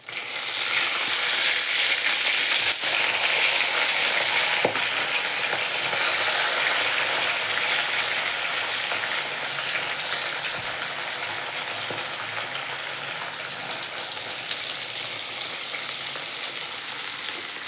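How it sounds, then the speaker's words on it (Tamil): Mustard seeds and manathakkali seeds fry in hot oil in a pan with a continuous bright sizzle, occasional sharp pops and crackles standing out, the hiss easing slightly toward the end. "கடுகு வெடிச்சிருச்சு."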